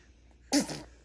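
A single sharp sneeze, close and fairly loud, bursting out of near silence and trailing off within a fraction of a second.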